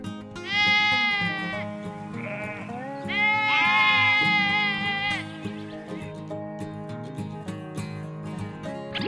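Sheep bleat in two long, wavering calls, loud and close, over a light musical backing, with a shorter bleat between them.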